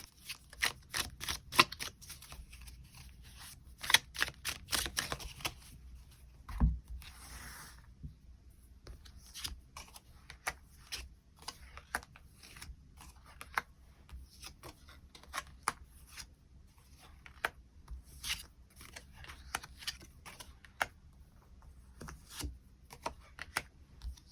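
Tarot cards being shuffled and drawn, with dense bursts of quick papery flicks and riffles early on, then sparser soft slides and taps, all close and quiet.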